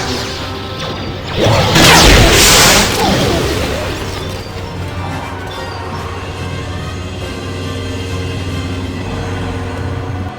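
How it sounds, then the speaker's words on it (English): An explosion in the Star Wars: KOTOR video game erupts as a loud broadband blast about a second and a half in, decaying over a few seconds into a low rumbling hum without speech. "I heard an explosion in there."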